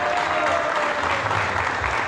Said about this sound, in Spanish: Un aplauso para Anita.